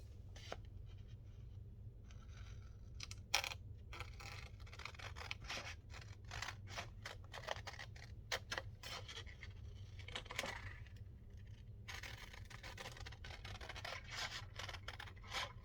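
Scissors snipping through paper while a lapbook craft is cut out, with crisp close cuts in irregular bursts and some rustling and scraping of paper, and no talk.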